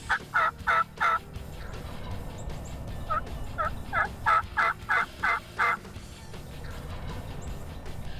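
Wild turkeys gobble in quick repeated bursts, a cluster of three followed by a longer run of six, fairly near, over quiet outdoor background.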